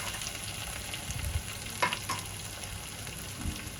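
Potato slices frying in a pan with turmeric, chili and amchur spices, a steady close sizzle broken by a few scraping stirs and light clinks, with no talking.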